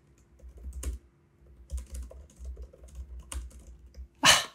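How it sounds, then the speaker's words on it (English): Typing on the keyboard of a 14-inch MacBook Pro (2021), soft scattered key clicks in short irregular runs close to the microphone, ending with a sharper louder tap. "Let me just type a little bit so you guys can hear the sound a little bit."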